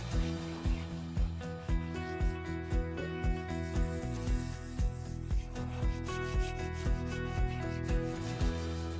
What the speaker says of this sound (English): I'm going to use my steel wool. And kind of really bear down on it.